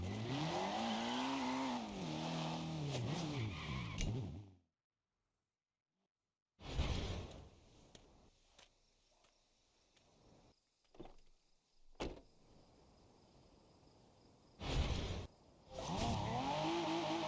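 Car engine in the racing video game Forza Horizon 2, revving and shifting in loud bursts that cut out to silence and return, with sharp transient thumps between.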